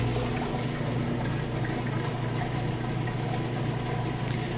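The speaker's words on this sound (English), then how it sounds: "It's going to kick into neutral, which engages the drain, kicks all the water out." Whirlpool washing machine draining water between wash and rinse, a steady low hum of the pump with constant rushing water, quiet and unbroken.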